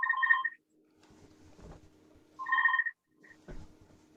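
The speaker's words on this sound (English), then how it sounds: "sorry, the phone's going" A telephone rings indoors in two clear electronic ring bursts separated by a pause, with faint low rustling and handling noise between the rings.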